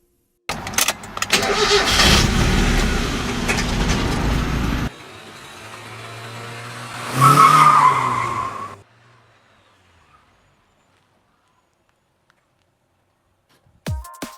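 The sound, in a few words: Mazda MX-5 car engine driving in a Need for Speed video game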